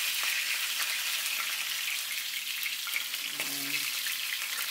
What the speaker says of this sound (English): Now it's time to flip it.